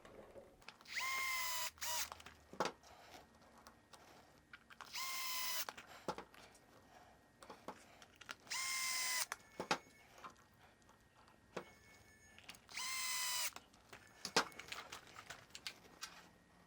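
Screws being driven back into a servo mount on a 1/10 Arrma RC truck, four short bursts of a small power driver's whir spaced a few seconds apart, with light clicks and handling noises between them, close and quiet.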